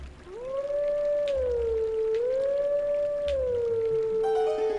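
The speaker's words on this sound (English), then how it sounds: "you can do howls as a wolf" A wolf howl from The Legend of Zelda: Twilight Princess HD, one long, steady, loud tone that rises and falls and then holds lower, with a short chime near the end.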